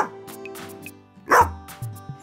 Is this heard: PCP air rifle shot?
no